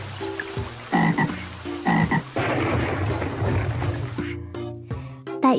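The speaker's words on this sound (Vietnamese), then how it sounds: "Con cóc xấu xí, tiếng kêu rỗng trời" A toad croaks repeatedly in loud, rhythmic bursts close by. A voice recites a poem between and over the croaks, and a rumble of rain and noise swells in the middle.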